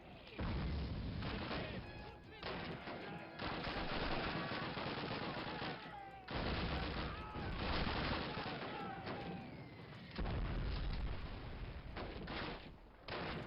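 Gunfire in Call of Duty 1 during a Warsaw and Oder River battle, loud dense bursts of shooting and booms in long sustained stretches with brief lulls, mixed with game noise and voices.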